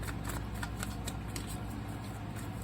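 Tarot cards are shuffled and pulled from a deck, giving a steady, close riffling and slapping of card stock for the whole stretch, with no speech.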